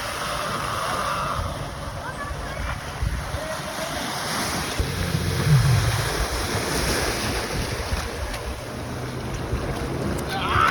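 A jet ski rides across open water at a beach activity spot, its engine drone blending into steady wind noise and surf, with a brief closer burst of spray and motor around the middle.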